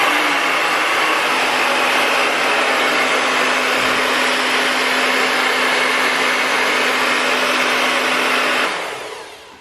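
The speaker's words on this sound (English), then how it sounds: "you're really just taking the hair dryer and not necessarily touching the hair" A hair dryer with a diffuser attached, drying curly hair, blows steadily at a loud, constant whoosh with a faint motor hum, then cuts off and winds down at the end.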